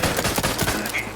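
Gunfire in the Outer Worlds 2 video game: a dense, rapid burst of shots rattling continuously over about a second, loud and close, with a little speech underneath.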